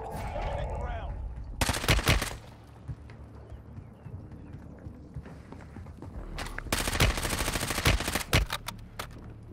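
Two loud clusters of rapid gunfire in Warzone Mobile, close and sharp, separated by a quieter stretch of game ambience with a few scattered shots and faint footsteps, with no talk.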